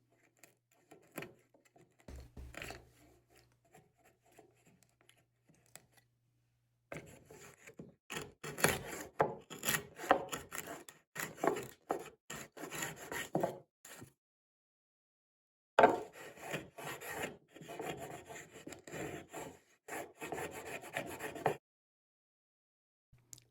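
Homemade router plane smoothing the bottom of a large cut in wood, heard as bursts of dry rasping and scraping strokes separated by short pauses, close and moderately loud with no talk.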